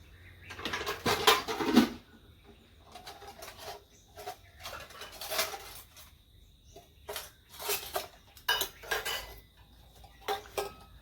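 Pots, pans and cutlery clatter and scrape in a kitchen sink during dishwashing, including a large idli-steaming pot. The bursts are irregular and close, with quiet gaps between.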